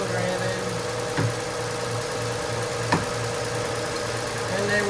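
A 2017 Chrysler Pacifica's engine idles after an oil change, a steady low hum with a faint regular pulse, close by, with a couple of soft knocks and occasional talk over it.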